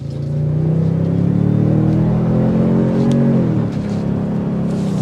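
A 2024 Toyota Sequoia TRD Pro with a 437-horsepower engine accelerates hard, its exhaust droning and climbing steadily in pitch before easing off, heard close and loud with no talking.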